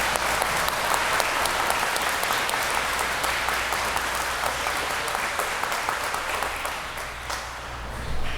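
Sustained applause from an audience at the Gloucester President's Awards ceremony, honouring the awardees; dense, steady clapping fills the whole stretch at an even level and tapers slightly near the end.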